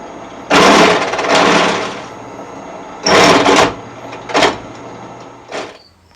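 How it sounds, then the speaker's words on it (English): Several loud bursts of a high-pitched drill press whirring as it enlarges a hole, each lasting about half a second to a second with short pauses between. "I just need to make this hole a little bit bigger, and we'll go do that on the drill press real quick"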